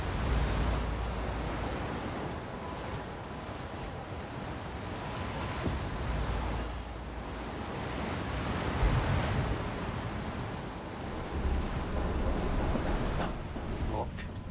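Ocean waves surge and crash in a video game set around an offshore rig, a steady loud wash of surf with swelling rushes and wind noise throughout, and someone talking over it at times.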